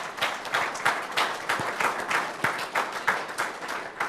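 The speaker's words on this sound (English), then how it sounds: "Let's give them a round of applause." An audience applauds coaches and teachers at a school event, a continuous patter of many hands clapping at moderate loudness for several seconds.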